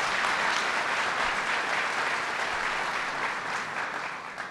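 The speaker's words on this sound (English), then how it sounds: "Let's give our Lieutenant Governor a big round of applause." A crowd at a 'Fight For Fair Pay' campaign launch event with organized labor gives a big round of applause, sustained clapping that fades slightly toward the end.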